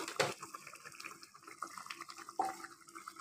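Egg and potato curry broth bubbling in an uncovered pan, a watery, gurgling simmer with a sharper splash partway through, close and steady with no talking.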